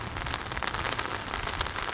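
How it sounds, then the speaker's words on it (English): Heavy rain pours down outdoors, a dense, steady hiss of drops drumming on surfaces close by, loud and continuous throughout with no voices. "I actually think it's starting to rain a lot harder now."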